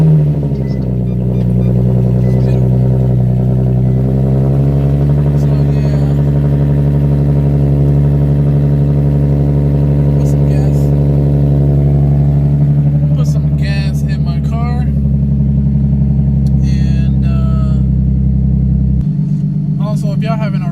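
A Nissan 370Z engine rumbles loudly and close, its pitch climbing and holding in a long sustained rev before easing off and settling back toward idle, with a person talking over it late on.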